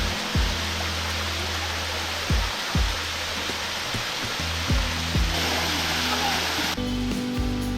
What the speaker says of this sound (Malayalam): നമ്മളിപ്പോൾ പാലൂർ കോട്ട വെള്ളച്ചാട്ടത്തിൻ്റെ ഏറ്റവും അടിവശത്ത് എത്തിയിട്ടുണ്ട്